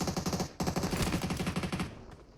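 Rapid automatic gunfire in PUBG Mobile, a solo-versus-squad match, rattles in fast bursts of evenly spaced shots with a short break, moderately loud and steady, no talk.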